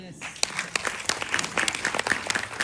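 An audience applauds at a stage event, with many hands clapping in a dense, steady burst from start to finish.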